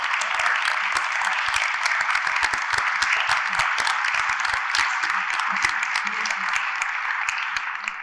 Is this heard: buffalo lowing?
no